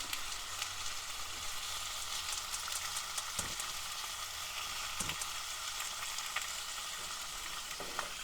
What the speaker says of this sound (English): hope you can hear over the sizzle